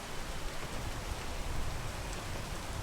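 Steady rain falling in the video game PEAK, a dense, even hiss of drops filling the whole clip at a constant moderate level with no talking.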